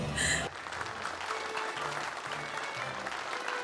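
Audience applause at a magic show, a dense wash of clapping that sets in after a brief tonal sound at the start and carries steadily to the end, with faint low murmuring underneath.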